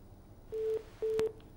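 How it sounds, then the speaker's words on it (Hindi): Telephone busy tone on a dropped call-in line during a live broadcast: two steady beeps, each about a quarter second long, with a brief click between them, heard alone on a quiet line. "फोन कट गया"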